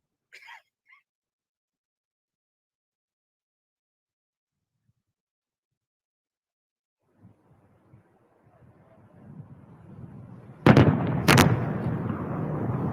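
Indian artillery guns fire shells at the border, a loud near pair of heavy booms after a stretch of silence and rising rumble, followed by sustained low roar.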